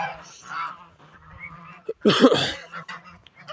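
Geese honk loudly on a village farm in a burst of overlapping calls, with quieter bird chatter before and after.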